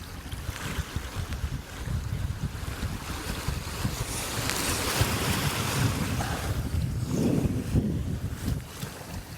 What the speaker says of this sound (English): The wind's just on the wrong side for me actually here